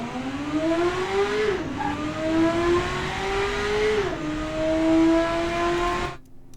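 A 1965 Marina Bolt's engine in the Automation car game, revving and droning around the Laguna Seca circuit, its pitch climbing through the gears with two audible shifts before cutting off.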